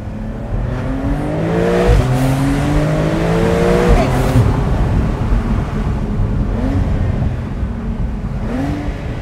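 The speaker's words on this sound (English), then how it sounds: "Those shifts from the PDK are just extraordinary." Porsche 911 992 Cabriolet with a PDK dual-clutch gearbox accelerating hard: a loud engine note climbs in pitch through several rapid upshifts, each shift a sharp drop before it rises again, with a voice speaking briefly over it.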